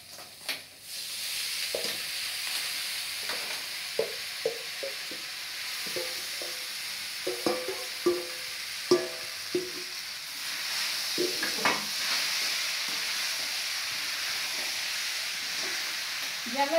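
Green chillies and curry leaves frying lightly in oil in a pan for sabudana kichadi, a soft steady sizzle under repeated clinks and scrapes of a spoon stirring, fairly quiet and with no voices.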